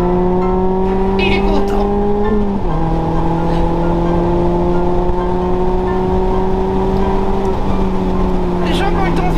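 A Mazda MX-5 ND with a naturally aspirated engine holds a loud, close drone from inside the car, its pitch dipping and settling again, while a person speaks briefly over it.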